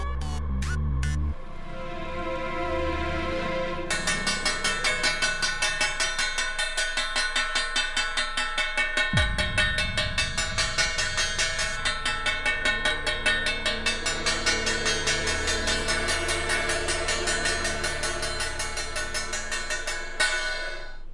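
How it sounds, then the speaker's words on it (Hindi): Metal thali plate banged repeatedly at home, a dense bright clattering ring that runs continuously and loudly over a musical backing, with no talking. "थाली क्यों बजा रही है?"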